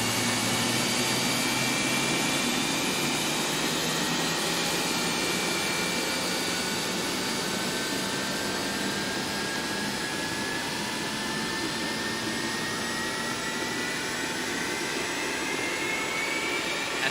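Boeing 737-200 jet engines in the X-Plane flight simulator spool with a continuous loud whine and roar, rising tones sweeping slowly upward over a steady broadband rush.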